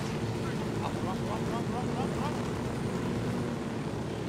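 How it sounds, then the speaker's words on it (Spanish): A helicopter in the Ghost Recon video game gives a continuous, loud rotor and engine roar with no breaks, and a voice comes through faintly beneath it. "¡Chavales, al helicóptero ya!"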